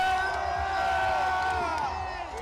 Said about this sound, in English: the crowd is going insane